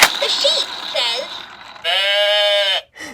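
Voices imitate a farm sheep bleating, giving a few quavering baa sounds, with the last one long and loud and the earlier ones shorter, in a playful animal-sounds lesson.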